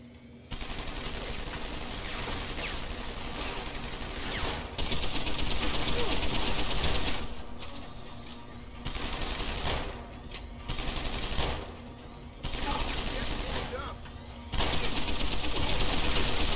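Rapid automatic turret gunfire from Deus Ex: Human Revolution rattles in long loud bursts separated by short pauses, with voices speaking at moments beneath the shooting.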